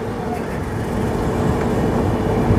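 A Puri–Sealdah Duronto express runs through a station, giving a steady low rumble of wheels on rails that grows slightly louder over a few seconds.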